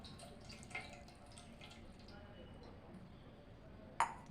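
Water is poured over a small deity idol during a household bathing ritual: a soft, steady trickle and splashing, faint and close, ending with a couple of sharp drips and pings against a metal vessel.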